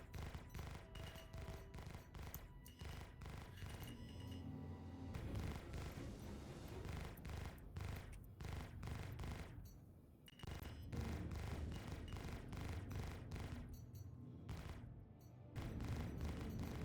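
Ship-mounted lasers and ballistic guns on a Reliant Tana fire in rapid, sustained bursts in a space combat game, sharp repeated shots with booming impacts and brief pauses, loud and close.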